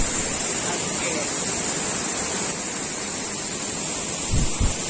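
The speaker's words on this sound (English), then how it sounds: "This looks like a beautiful curtain of water" A small waterfall on a trek through the Western Ghats gives off a steady, broadband rush of falling water that holds constant and close throughout, with a brief low thump near the end.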